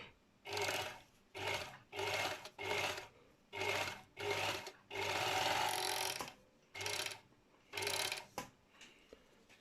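A Textima 8515 overlock sewing machine with a fault that makes it cut fabric poorly runs in about eight short bursts and one longer run, each a loud whirring stitch-and-cut drone, with brief pauses between.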